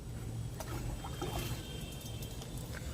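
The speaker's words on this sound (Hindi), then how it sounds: "अब मैं आपको इसके अंदर पानी डाल के दिखा देता हूं।" Water is poured into a plastic polythene bag filled with soil for growing a seasonal plant, making a steady trickling and splashing that runs continuously and evenly throughout.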